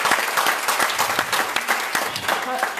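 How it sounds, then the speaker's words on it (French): Audience applauding at the close of a French conference round table, loud dense clapping with some voices mixed in underneath. "Merci, un grand applaudissement."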